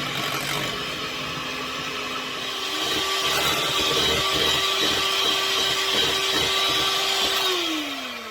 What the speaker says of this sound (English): just got to whisk that till it gets solid.